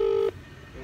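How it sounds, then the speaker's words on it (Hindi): Phone dialing tone: a single steady electronic keypad beep, short and clear, cutting off abruptly and followed by quiet room noise. "भाई सोहित पर फोन करते हैं देखते कहाँ पर है"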